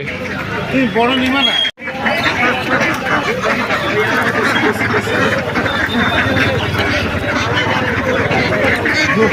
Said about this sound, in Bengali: এখানে অনেক হাঁস রয়েছে এখানে দেখো কত হাঁস